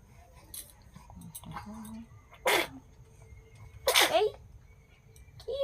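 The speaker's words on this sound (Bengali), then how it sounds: "একবার হ্যাঁচি, একবার কাশি, একবার থুতু তুলে।" A little girl sneezes twice, two sharp bursts a second and a half apart, close and fairly loud against a quiet room, with small rustles and a soft voice around them.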